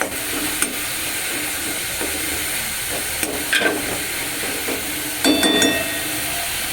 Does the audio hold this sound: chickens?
no